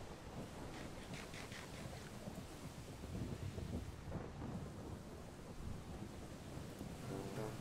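Thunderstorm from the Minecraft localized weather mod, with rain hiss and wind under a deep rolling thunder rumble that swells midway, faint and continuous, with no speech.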